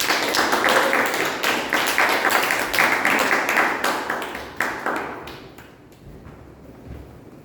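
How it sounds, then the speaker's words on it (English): Applause from a Toastmasters meeting audience, a dense, loud patter of many hands clapping that carries on for several seconds before tapering off, with a few scattered claps and light room noise at the end. "Please give him a round of applause."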